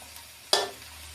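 A single burst of sizzle as ingredients are stir-fried in a pan with a little water and not much oil for American fried rice, rising sharply then fading over a quiet background.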